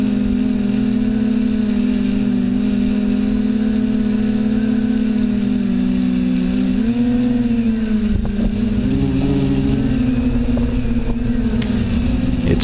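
Multicopter drone flying an automated mission between waypoints, its motors giving a steady, loud droning hum that wavers in pitch as it changes speed and direction, with no voices.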